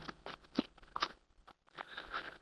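Tarot cards being shuffled by hand during a reading, soft papery riffles and taps in short bursts with a brief pause, close and quiet.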